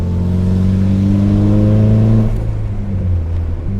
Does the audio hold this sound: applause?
no